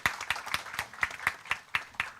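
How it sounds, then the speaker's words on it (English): Applause at the valedictory function of an academic food science conference, heard as a loose rhythm of sharp, distinct hand claps, fairly sparse and close, about four per second. "A big round of applause to Professor V."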